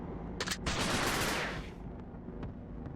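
Silver bullets are fired in a few quick, sharp shots, followed by a sustained burst of rapid gunfire. Sparse, fainter cracks come afterward, all fairly quiet overall.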